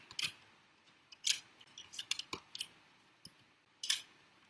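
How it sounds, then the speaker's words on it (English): Small paper trimmer slicing paper, heard as several sharp, crisp cutting strokes at uneven intervals, close and fairly quiet, with no one speaking. "small trimmer. I'm just going to trim it down."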